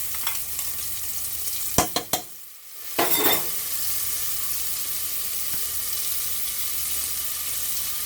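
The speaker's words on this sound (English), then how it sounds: "You hear the sizzle?" Curry paste hitting a hot, lightly smoking pot, with a few sharp clatters and a brief hiss, then a steady, quiet sizzle continuing alone.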